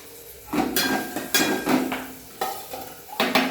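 Cumin, peanuts, sesame seeds, curry leaves and chillies fry in oil in a pan. A spoon scrapes and clinks against the metal in several separate bursts over a soft sizzle.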